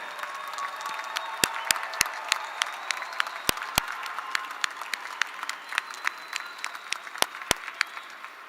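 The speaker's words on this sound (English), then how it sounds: "give a loud round of applause to your families and friends who've helped you along the way" An audience at a university engineering graduation ceremony gives sustained applause in a large hall, a steady wash of clapping with a few sharp, close individual claps.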